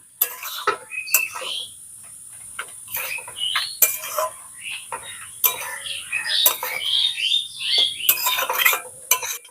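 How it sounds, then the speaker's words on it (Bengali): A spoon scrapes and clinks in a bowl as mashed potato filling is mixed with spices like cumin-coriander powder or garam masala, giving irregular close taps and stirring sounds with no talk. "এবারে সবকিছু খুব ভালো করে মিশিয়ে নেব"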